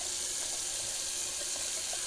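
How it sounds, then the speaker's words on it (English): A tap runs at room temperature into a bathroom sink for a face rinse after shaving, a steady close hiss of flowing water with faint splashes and no speech. "cold water rinse, or since it's summer, room temperature rinse as far as the water temperature is concerned."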